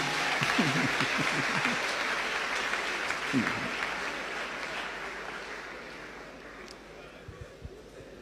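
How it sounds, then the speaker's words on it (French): Audience applause fills a hall as a crowd claps steadily throughout, a broad continuous wash that slowly fades, with a few voices and cheers mixed in near the start. "Acclamons ses frères anonymes."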